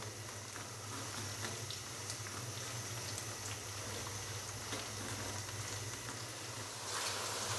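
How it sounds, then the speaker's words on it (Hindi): Okra frying in a pan over a medium flame makes a faint, even hiss and soft bubbling that holds steady throughout and swells slightly near the end. "भिंडी को मैं तकरीबन 3 से 4 मिनट के लिए फ्राई कर लूंगा"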